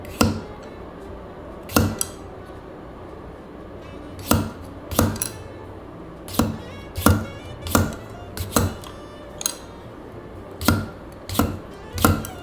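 A knife chops through potato onto a board, about a dozen sharp knocks in irregular spurts, close and clear with no talking.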